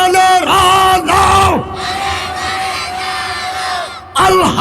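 A large crowd at an outdoor Bangladeshi waz mahfil religious gathering roars a unison takbir chant in loud, sustained shouted bursts, led by a single voice and answered repeatedly by many voices.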